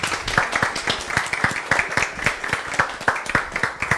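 At a book talk on Christianity and postmodernity, a small audience claps for a few seconds, giving a fairly close, uneven run of hand claps.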